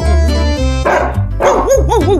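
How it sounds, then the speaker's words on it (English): A dog barks several times in quick succession, loud and close, with short yappy barks. "Dog says..."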